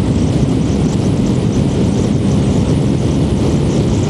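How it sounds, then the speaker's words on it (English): Honda VFR 1200 motorcycle engine running in sixth gear with a gearbox rattle, a steady loud broadband drone with low rumble and no breaks, no voices. "in sixth that gearbox is rattling like a bugger"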